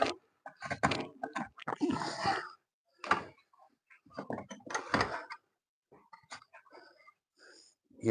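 A dog breathes and chews close by, irregular bursts of snuffling, wet chewing and gnawing separated by short quiet gaps.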